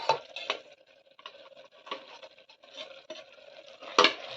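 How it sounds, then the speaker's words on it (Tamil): A utensil scrapes and stirs spices (garam masala, coriander, chilli, turmeric powders) in a pan, with soft sizzling and irregular clinks and taps against the metal, close by and fairly quiet. "மசாலா சேர்த்ததுக்கு அப்புறம் நல்லா ஒரு ரெண்டு நிமிஷம் வதக்கிக்கலாம்"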